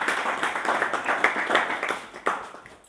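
An audience claps to welcome a guest at a spiritual satsang gathering held during an ashram camp, a steady patter of many hands sustained throughout, fairly close and moderately loud, with no talk over it.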